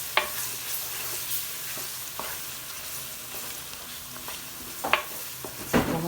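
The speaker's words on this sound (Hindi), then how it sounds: "प्याज, लहसुन और इन मसालों को हमने करना है जी थोड़ा सा भूनना है हमने" Onion, garlic, and spices, including coriander and ajwain, fry in a pan for a biryani, giving a soft, steady sizzle with a few light stirring scrapes and taps and no talking.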